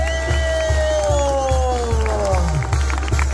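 Crowd noise with cheering and scattered clapping at a rodeo in San Francisco Yosocuta, Oaxaca, under a loud, droning voice and pulsing low music, with a rising whistle-like tone near the end.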